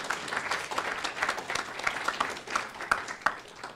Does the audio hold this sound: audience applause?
yes